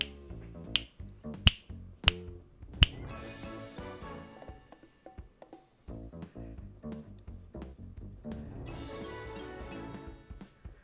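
Sharp finger snaps, four crisp, evenly spaced ones up front, then lighter snaps continuing over quiet background music, close and distinct.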